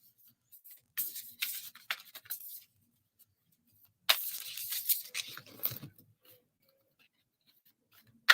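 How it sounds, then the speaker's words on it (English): Two bursts of quick, close papery riffling and rubbing as tarot cards are shuffled, separated by a quiet pause. "just going to shuffle them all quick in front of me"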